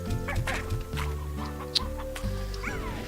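A chicken in the Slime Rancher video game clucks in a few quick, clipped calls over busy game sounds and music.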